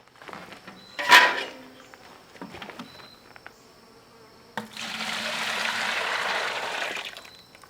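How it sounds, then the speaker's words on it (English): Melted beeswax poured back into a bucket, a steady hissing pour lasting about three seconds, preceded by a sharp clatter and some quieter handling knocks, close by. "we'll go ahead and pour it back in our bucket"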